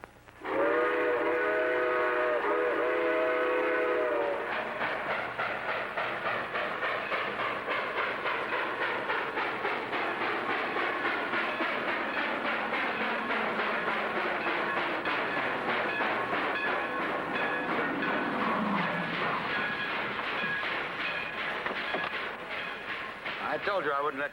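A train in a 1942 film sounds a loud whistle, then rolls past with a steady rhythmic clatter and rumble on the rails for about twenty seconds.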